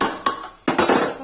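Metal lid set down onto a pot of mutton curry: a sharp clank followed by a second, louder clatter as it settles, close and alone.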